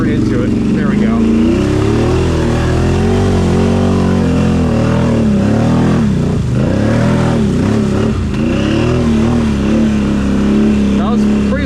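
Can-Am Outlander 850 XMR ATV pushing through a mud hole, a loud close engine drone rising and falling with throttle, with speech mixed in over it.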